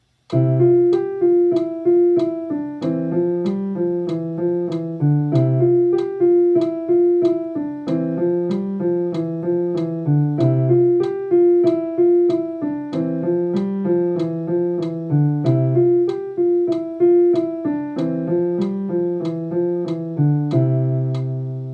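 A simple repeating piano figure from Czerny Op. 802 plays evenly over a steady metronome click ticking on each beat, close and clear with no voices.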